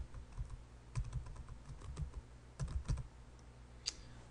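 A computer keyboard being typed on to enter a Google search, quick clusters of soft key clicks with short pauses, close but faint, with no talking.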